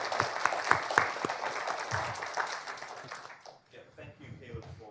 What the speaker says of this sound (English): give Alan and Richard a round of applause